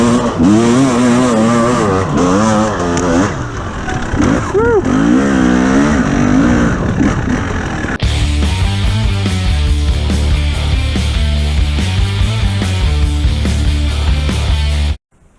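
A 2021 KTM 300 two-stroke motorcycle with traction control revs hard on a hill climb, buzzing sharply with rising and falling pitch, then settles into a lower rough drone before stopping abruptly, with a voice speaking over it.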